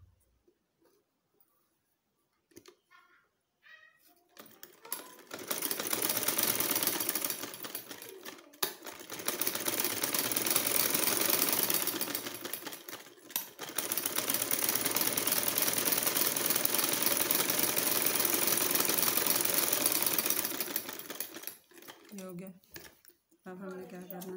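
A sewing machine stitches a pressed shirt cuff in two long steady runs after a quiet start, with brief handling noises between bursts and no talk over the motor.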